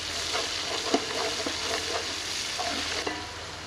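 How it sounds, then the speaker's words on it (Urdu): Ginger-garlic paste frying with onions in a pan for chicken mandi, a steady close sizzle with scattered scraping stirs throughout. "اسے تھوڑا سا فرائی کر لیں گے."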